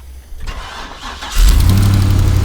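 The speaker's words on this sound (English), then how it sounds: "Go ahead and fire it up again for me, Sheldon." A heavy truck engine, likely a large diesel, cranks and catches about midway through, then settles into a loud, steady, close rumble.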